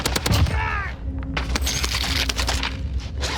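Rapid automatic gunfire in an online shooter game, dense bursts of close, loud shots rattling continuously over game ambience, with a voice speaking briefly.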